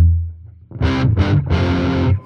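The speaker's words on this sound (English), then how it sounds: "All these things take on different characters through a distortion pedal." Heavily distorted Fender electric guitar: a low held note fades, then three loud, fuzzy chord bursts ring out, the last one held longest.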